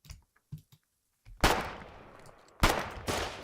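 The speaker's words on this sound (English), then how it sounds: "I think that's the sound of him just blowing it up." A truck is blown up in a front-line war video game with sandbags nearby, bringing two loud, crashing explosion bursts that decay into rumbling noise. A few short muffled thumps come before them.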